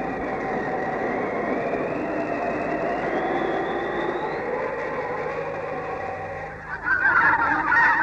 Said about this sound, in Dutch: Ganzen in V-formatie